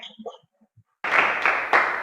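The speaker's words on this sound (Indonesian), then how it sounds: "Tepuk tangan dulu." Classroom applause breaks out after a short spoken prompt, a dense burst of many hands clapping for about a second with two louder swells, close and bright.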